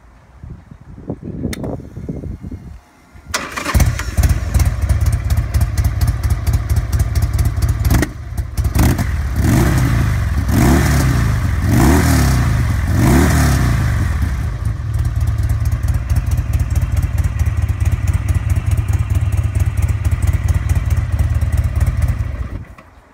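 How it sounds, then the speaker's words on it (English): Custom Buell motorcycle with an approved aftermarket exhaust, started up close by, then idling loudly and blipped through several sharp revs before settling back into a steady, rumbling idle. "Hören wir uns mal den Sound der Auspuffanlage an."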